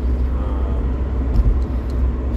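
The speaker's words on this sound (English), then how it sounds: "in a very loud car because it is 10 degrees out and my car is very cold" Loud, steady low-pitched road rumble and engine drone inside a cold car on a windy 10-degree day, continuous and close, with faint higher thumps on top and no talking.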